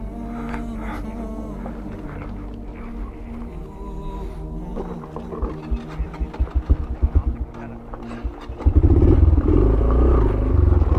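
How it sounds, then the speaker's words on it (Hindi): A Yamaha YBR 125G motorcycle sputters through a run of uneven cranking pulses before catching and settling into a loud, steady idle, recorded close up on an off-road descent. "बाइक नहीं स्टार्ट हो रहा."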